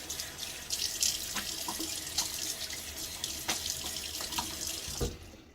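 Steady running warm tap water splashing into a sink while rinsing during a wet shave, a continuous broadband rush with a few brief clinks, stopping abruptly near the end.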